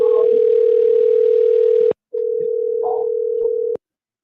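Ringback tone of an outgoing telephone call, a loud steady electronic tone in long bursts: about two seconds on, a short gap, then another long burst before it cuts off.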